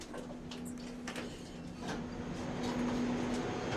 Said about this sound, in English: we watched several trains arrive and depart from the different platforms